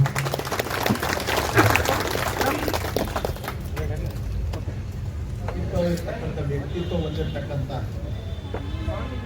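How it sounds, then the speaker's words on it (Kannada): Applause for a retiring AEE, Siddappa, at a farewell gathering in Tumakuru: a crowd claps loudly at first, then the clapping thins and fades under ongoing talk and room noise. "ಎಲ್ಲರಿಂದ ಒಂದು ದೊಡ್ಡ ಚಪ್ಪಾಳೆಯನ್ನು ಕಟ್ಬೋದಲ್ವಾ"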